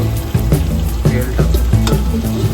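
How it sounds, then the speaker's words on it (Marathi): Chopped tomatoes fry in oil for a village-style chicken curry. The close, loud sizzle is broken by quick rhythmic stirring scrapes about every half second. "टोमॅटो चिरलेली टोमॅटो टाकतो, जोपर्यंत पूर्ण आपलं तेल सुकत नाही तोपर्यंत आपण पूर्ण हलवून घेऊ"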